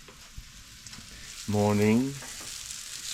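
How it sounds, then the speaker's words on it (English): Apples frying in a pan for a breakfast of oatmeal and bananas on an off-grid homestead give a steady, close sizzle, with a voice briefly speaking over the middle. "I'm preparing my breakfast of champions, frying my apples."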